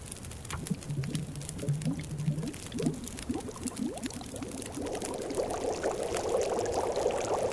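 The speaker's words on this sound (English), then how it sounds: "we're going to go ahead and let's boil that" Melted snow boiling in a pot in The Long Dark survival game, a bubbling, gurgling simmer with rising popping bursts that grow denser and louder toward the end, no voices.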